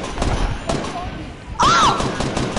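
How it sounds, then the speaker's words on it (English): Video-game gunfire cracks in a few bursts, including sniper fire, with a sharper, louder shot near the end over a background of voices talking. "someone's shooting at us. Palmer has a sniper."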